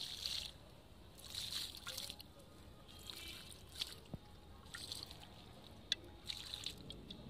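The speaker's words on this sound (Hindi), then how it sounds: "इसमें भी मैं थोड़ी थोड़ी सी ये लिक्विड खाद डाल दूंगी।" Liquid mustard cake fertilizer poured onto young spinach plants: quiet, soft trickling splashes come in several short bursts, with pauses between pours.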